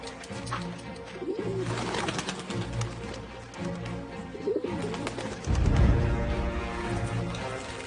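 Messenger pigeons coo in soft, rolling, low bursts, several birds close together, with occasional chirps and a brief flutter of wings amid a busy, continuous background.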